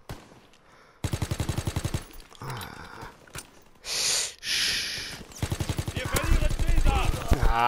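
Automatic gunfire in multiplayer Call of Duty WWII with a Type 100 submachine gun, loud rapid bursts of shots separated by gaps, with other game effects and someone talking over the action.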